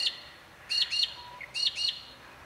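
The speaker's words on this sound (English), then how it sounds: "it's not too loud with birds around here" Small birds chirp outdoors in two quick paired bursts of high, sharp tweets, fairly close against a quiet background, with long silent gaps between the calls.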